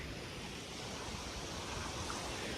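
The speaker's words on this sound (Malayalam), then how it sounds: "ഇതാ ഇതും നല്ല ഒഴുക്കുണ്ട് കേട്ടോ വെള്ളത്തിന്" A strongly flowing river gives off a soft, continuous rushing hiss. The sound is faint and even, with no voices over it.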